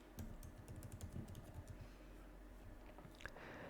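Quiet, rapid keystrokes as a password is entered on a computer keyboard, a close run of soft clicks that thins out and stops, with no voices.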